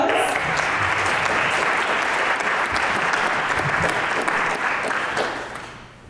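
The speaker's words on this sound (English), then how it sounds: "Can we give them a round of applause?" A seated audience at a community gathering in Bay City City Hall claps steadily for guests at the table, a dense, loud roar of applause that holds for several seconds and then begins to fade.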